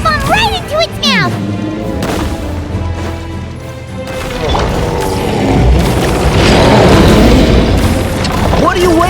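In Genshin Impact, a bomb explodes with a deep boom, then rumbling crashes and debris that build into a loud roar, alongside excited character voices.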